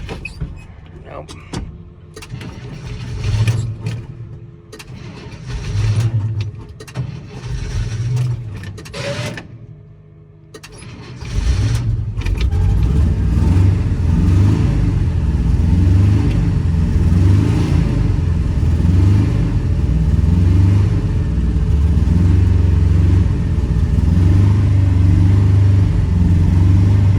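A 1975 International 200 pickup found in a field, engine cranking and then catching, idling and revving loudly in rhythmic pulses, with voices talking over it early on.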